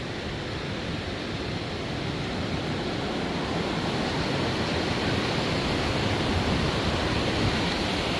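A constant, full roar of a rushing river in Ladakh, loud and unbroken, with no voices.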